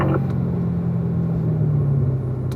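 A car on a race track accelerates out of a corner, giving a loud, steady engine drone and rumble heard from close by that holds constant throughout, with no talk.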